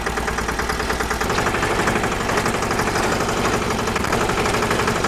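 A mini tractor engine, a Bullet Sanedo type, runs steadily during a live field test, with a loud, continuous mid-to-low throbbing drone and rhythmic knocking pulses throughout.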